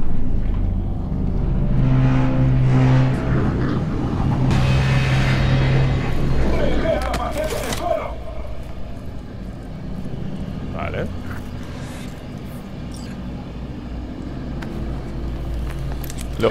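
A car from Cyberpunk 2077 drives with a steady engine drone and whooshing road noise, louder at first and then settling lower, while someone talks over it.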